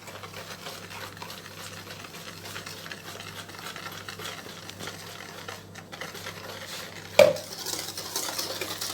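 Cookie dough is beaten in a bowl with steady, continuous scraping and stirring strokes, close and fairly quiet, ending in a sharper knock and a brief busier stretch.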